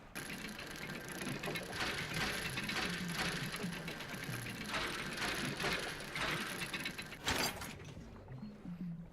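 Dredging machinery in a fishing video game winding in, a faint, steady mechanical ratcheting and gear clatter running without a break, with a brief louder clank near the end; no voices.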